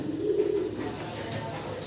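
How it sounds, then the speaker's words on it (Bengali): Light blue barless German Beauty fancy pigeons coo nearby, a short low throaty warble over faint background noise. "সুপার লাইট কালারের ভিতরে ব্লু বার্লেস কবুতর"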